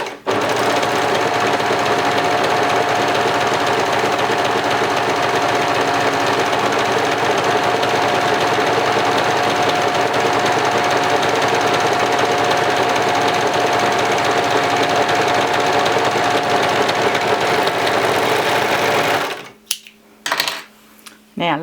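An overlocker stitching a rolled hem on cream fabric, running at a fast, steady, loud mechanical rattle for about nineteen seconds before stopping, followed by a few light clicks.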